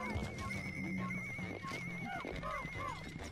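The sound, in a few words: giant breadbug creature sound in Pikmin 2 video game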